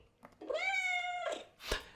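A cat meow sound effect triggered from the soundboard of a Logitech MX Creative Console, one long clear drawn-out meow followed by a short sharp click.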